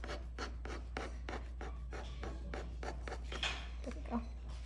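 A tool scrapes under a clay slab to cut it free from the bottom, a series of close, rhythmic rasping strokes over a steady low hum.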